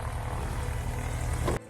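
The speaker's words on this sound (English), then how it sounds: "Planes are starting up." Airplane engines starting up at an airfield produce a steady, loud propeller drone with a low pulsing throb, which cuts off abruptly at the end.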